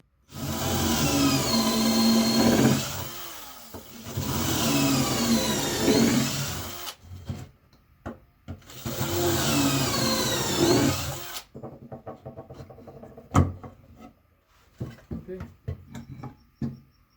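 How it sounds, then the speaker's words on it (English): Power drill boring holes into wood with a 1/4 inch bit, two long whining bursts of several seconds each, loud and close, followed by sparse knocks and clicks. "Then drill holes with 1/4 inch bit."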